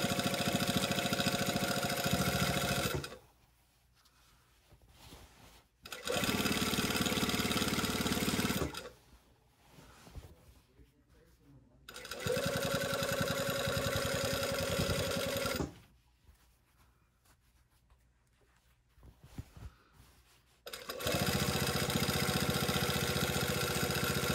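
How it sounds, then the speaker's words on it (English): A sewing machine runs at a 3 mm stitch length, top stitching a coat from the front. Several steady mechanical bursts of a few seconds each are separated by quiet pauses, and the machine sounds close and even. "I am top stitching from the front on top, which is what you're supposed to do."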